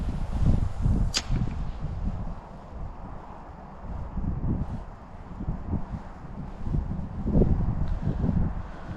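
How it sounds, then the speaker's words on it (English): Gusty wind buffeting the microphone outdoors during bass lure fishing, a steady low rumble that swells and eases in waves across the whole stretch, with a brief sharp swish near the start. "Oh, this wind."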